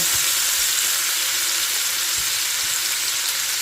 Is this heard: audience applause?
no